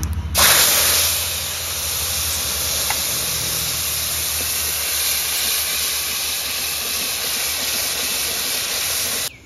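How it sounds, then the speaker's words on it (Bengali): Ground mustard paste with green chili, tomato and salt hitting hot oil with cumin and bay leaf for a pomfret mustard curry, giving a sudden loud, steady hiss of frying that holds throughout, with no talking. "ফোড়নের মধ্যে দিয়ে দেব আমার এই বেটে রাখা মশলা।"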